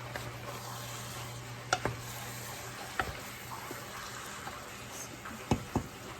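Spatula stirring vegan picadillo in a pan, a faint steady sizzle broken by a few soft scrapes and taps against the pan, with no talking.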